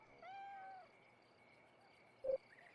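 A cat meows in the video game Costume Quest, one drawn-out mewing call followed by a short, sharper meow about two seconds later, both faint over a quiet game background hum.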